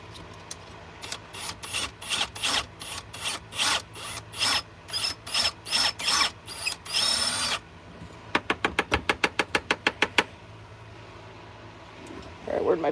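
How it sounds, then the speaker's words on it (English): Reaming out a watch part with a drill, a series of sharp rasping strokes in an even rhythm, then a quicker run of short scraping bursts, close and fairly loud, with some talk. "I'm literally gonna ream this out"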